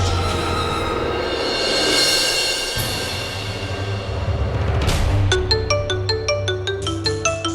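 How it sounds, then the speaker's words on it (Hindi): A phone ringtone starts partway through, a bright repeating electronic melody of short stepped notes over a low background hum. "निवेदिता मैम का फोन इस वक्त।"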